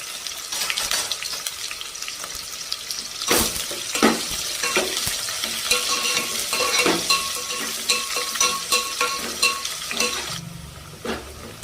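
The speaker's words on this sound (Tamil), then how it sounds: "பெரிய வெங்காயம் நீளமாக கட் பண்ண 2 வெங்காயம் சேர்த்துருக்கேங்க. இப்போ இது நல்லா பொன்னிறமாக வர்ற வரைக்கும் வதக்கிக்கலாம்." Two large onions sliced lengthwise sizzle in hot oil while being sautéed for tomato rice, with steady frying hiss and repeated scraping and clinking of a spoon against the pan.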